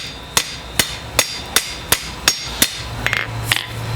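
A hammer strikes a 1/4 by 1 inch steel bar to flare out its edge while forging hinges, about ten sharp ringing blows at a steady rhythm, close and loud.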